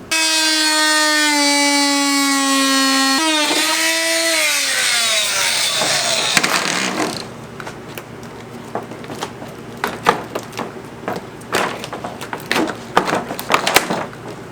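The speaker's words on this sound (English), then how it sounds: "So I got the bumper all cut out now." A harsh, whining power tool cuts steadily through a plastic car bumper for several seconds, its pitch dropping under load, then gives way to scattered scraping and clattering of handled material.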